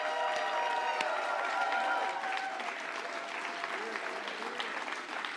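Supporters clap and cheer in a dense, steady burst of applause at an election-night event for the Saanich Gulf Islands campaign, with a few scattered whoops rising over the continuous crowd noise.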